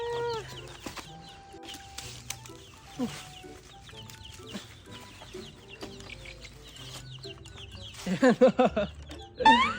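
Chickens near an automatic coop door cluck on and off throughout at close range, with a burst of louder, rapid clucking toward the end.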